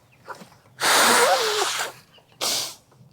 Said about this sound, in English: I gotta honk my nose.